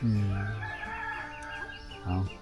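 Domestic village chickens in a morning rural setting cluck, and a rooster crows loudly and close by, followed by more clucks and a short second call near the end.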